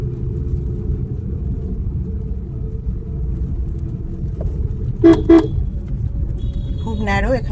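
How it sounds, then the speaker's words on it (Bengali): A car horn sounds two short close toots while driving through a narrow residential lane, over a steady engine rumble, followed by a rising whine near the end. "ডান দিকের ইন্ডিকেটর দিলাম, হর্ন দেব"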